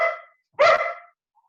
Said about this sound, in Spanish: tengo el perro ladrando